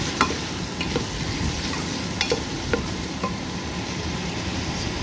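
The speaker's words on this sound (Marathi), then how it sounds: "मी कांदा टाकणार आहे, म्हणजे चिरून घेतलेला आहे तो" Chopped onion sizzles steadily in a pan while being fried for chavali, a continuous crackling hiss broken by occasional scrapes of stirring, close and moderately loud with no voices.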